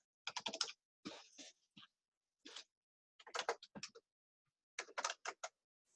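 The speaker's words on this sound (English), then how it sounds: "I'm just typing another message." Computer keyboard keys clatter as a message is typed during an online English lecture: close, crisp bursts of rapid keystrokes separated by short pauses, with no talking.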